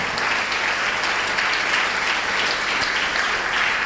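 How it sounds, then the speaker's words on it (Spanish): Steady, loud applause from a church congregation during a Spanish-language service, a continuous dense wash of clapping that fills the whole stretch without a break. "Fuerte ese aplauso para nuestro Señor"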